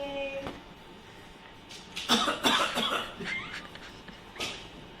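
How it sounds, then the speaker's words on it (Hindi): A few dry, hacking coughs close by, a short burst midway and another near the end, with faint background noise. "सूखा खांसी है"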